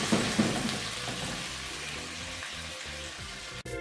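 A mushroom and nut roast mixture with broth and soy sauce cooks in a pan, giving a steady, close, loud sizzle and bubbling hiss with no pauses.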